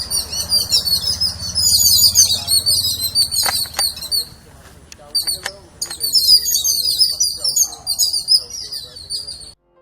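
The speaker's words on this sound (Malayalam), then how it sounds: "ചുറ്റും കോൺക്രീറ്റ് കാടുകൾ പടർന്നപ്പോൾ നാട് വിട്ടുപോയ പക്ഷികളൊക്കെ തിരികെ വരാൻ തുടങ്ങി." Birds chirp and tweet in a forest planted on temple grounds in Cheruvathur, with bright, overlapping calls coming in bursts from close and farther trees over a faint low murmur.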